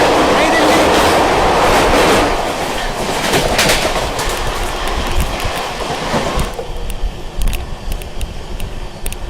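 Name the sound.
Amrit Bharat Express train passing at speed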